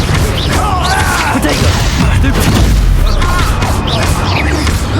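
A Stupefy spell is cast in Hogwarts Legacy, a loud booming magical blast with crashing impacts amid dense battle noise and voices.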